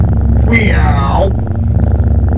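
A person's voice imitates a cat's meow, a single drawn-out, sliding cry over a loud, buzzy background hum.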